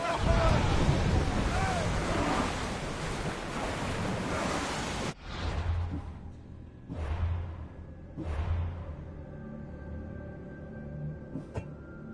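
Ocean waves wash against a sailing ship in Assassin's Creed Odyssey, starting as a loud, dense roar of surf and wind, then settling into softer, rolling swells that rise and fall about every second and a half.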